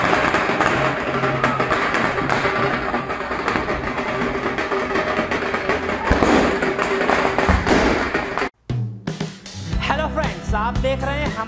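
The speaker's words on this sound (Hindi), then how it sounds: "ढोल ताशों और आतिशबाजी के साथ रैली निकाली गई।" Fireworks and dhol and tasha drums at a Diwali-season farmers' rally procession for Padwa and Govardhan Puja, a dense, continuous clatter of bangs and thumping drumbeats, loud and close, briefly cutting out before the thumping resumes.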